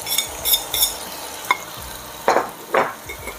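Chopped garlic and spring onion sizzle in a pot beside chorizo, a moderate steady crackle broken by several sharp utensil scrapes and clinks against the pot; no voices.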